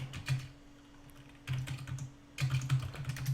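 Fingers typing on a MacBook laptop keyboard, close and distinct, in three quick bursts of rapid clicking keystrokes separated by short pauses with no talking.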